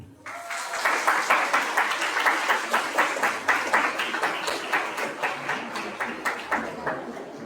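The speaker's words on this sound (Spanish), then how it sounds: "vamos a presentar y recibir con un fuerte y cálido aplauso" Audience at a university psychology faculty event applauds to welcome a professor, dense sustained clapping with a rhythmic pulse that starts abruptly and carries on steadily at close range, no speech over it.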